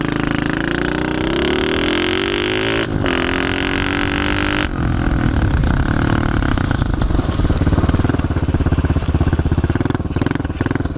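A pit bike ridden through wet, slippery mud, its engine loud and close, revving and dropping in pitch with a sudden throttle change partway through and a rough, continuous drone.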